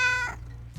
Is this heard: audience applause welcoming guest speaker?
no